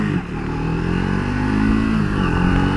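Triumph Speed 400 motorcycle accelerating, a loud, close engine drone rising steadily in pitch with wind rush and some clatter, heard from the rider's position.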